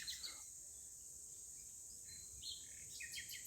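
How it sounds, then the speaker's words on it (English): Faint bird chirps and tweets scattered over a soft, steady insect-like hiss, quiet and somewhat distant, with no voices. "Birds grow busier with evening plans."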